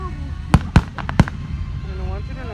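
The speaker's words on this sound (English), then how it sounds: "Those little fireworks." Fireworks at an outdoor firework show: three sharp, loud pops in quick succession, then further crackling and whistling launches under people talking nearby.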